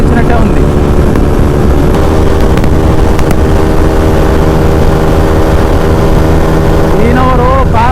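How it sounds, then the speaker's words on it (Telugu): A Bajaj NS200 motorcycle fitted with an Akrapovic exhaust rides at speed, giving a steady loud engine drone with wind rush and a rising rev near the end; a rider talks faintly underneath. "యాక్చువల్లీ ఆక్రాపోల్స్ ఎగ్జాస్ట్ వేసుకుంటే సౌండ్ వస్తుంది"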